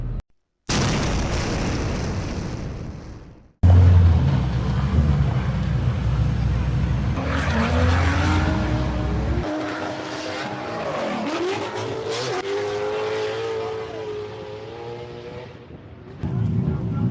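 Drift cars at Hyperfest screaming around the Patriot track, loud engines revving with pops and bangs and long rising tire squeal, the roar close and sustained for most of the clip with a brief gap early on.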